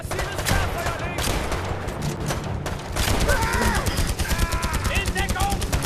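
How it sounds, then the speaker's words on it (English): An artillery barrage mixed with gunfire in the war video game BIA, set in an African campaign. Dense, continuous volleys and rattling shots fill the whole stretch loudly, with shouted voices under the din. "Artilleriefeuer auf angegebene Koordinaten! Massives Sperrfeuer legen!"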